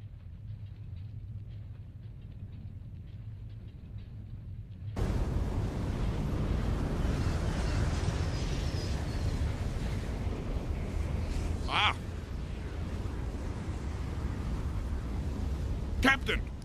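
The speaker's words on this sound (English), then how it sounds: "Fireball." An incendiary-device fireball erupts in an animated film, a sudden loud roaring burst that swells into a sustained rumbling wash after a quiet lead-in, with faint crackles later.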